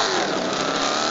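Jeep engine revving in a GTA V-style Android game, a loud, dense, continuous roar filling a short burst with no pause.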